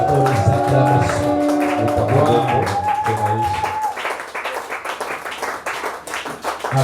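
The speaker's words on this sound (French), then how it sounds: "Est-ce que maintenant on peut ajouter un peu les acclamations?" A church congregation breaks into dense clapping and cheering that swells over the last few seconds, following a sustained sung or spoken tone, loud and close.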